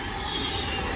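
An Avanti West Coast Class 390 electric train, unit 390-044, running between London Euston and Glasgow Central, gives a loud, steady rush and rumble of passing rail carriages throughout.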